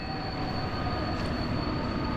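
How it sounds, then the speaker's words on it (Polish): A Brda passenger train at Warszawa Zachodnia station in icy conditions gives a continuous, loud rail rumble with a faint high whine running throughout, close by and without talk. "A obok nas pociąg Brda Który jedzie tylko do stacji Warszawa Centralna"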